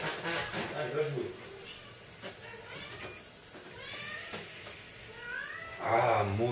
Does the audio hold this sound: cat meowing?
yes